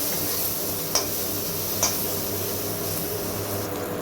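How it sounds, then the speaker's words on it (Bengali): Eggplant pieces seasoned with turmeric and salt fry in oil left over from frying fish, giving a steady, close sizzling hiss with a couple of sharp utensil clicks from stirring. "হলুদ আর লবণ দিয়ে মাছ ভাজা তেলের মধ্যে বেগুনটাকে আমি ভেজে নিচ্ছি।"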